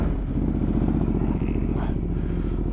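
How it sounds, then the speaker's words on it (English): A Ducati Multistrada 1260 motorcycle idles close by with a loud, steady, throbbing engine pulse, unbroken throughout. "Oh, sound of a proper motorcycle."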